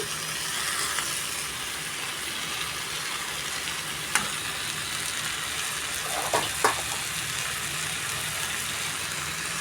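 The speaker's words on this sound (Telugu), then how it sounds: "రోస్ట్గా వేపాలండి పచ్చివాసన అంతా పోవాలి" Jackfruit masala curry dry-roasting in a pan with little oil, a steady soft sizzle throughout with a few brief scraping clicks from stirring, no voices.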